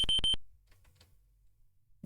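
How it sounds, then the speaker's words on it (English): Warning signal from the Space Quest II: Vohaul's Revenge computer game, sounding as three quick, high, piercing electronic beeps at the start, then near silence with only faint low noise. "a warning signal draws your attention to the oxygen meter on the front panel"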